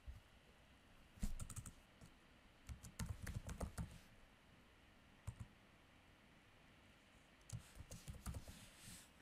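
Bursts of close keyboard typing, quick clattering keystrokes in short runs separated by pauses, with no talking.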